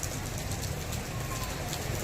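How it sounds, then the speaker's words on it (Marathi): Steady broadband hiss of rain falling in an outdoor setting, continuous and even throughout with no distinct drops standing out, and no speech over it. "आणखीन पाऊस वाढला"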